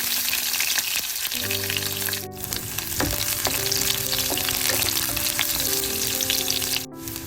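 Garlic frying in oil in a pan while an eggplant curry is cooked, a steady close sizzle with occasional stirring clinks and no talking.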